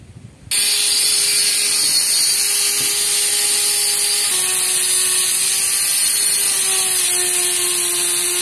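A mini grinder cuts into the circuit board of a Whirlpool washing machine with a no-power short-circuit fault, starting abruptly into a steady, loud high-pitched whine that holds for several seconds with slight pitch shifts.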